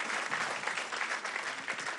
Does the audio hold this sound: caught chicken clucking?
no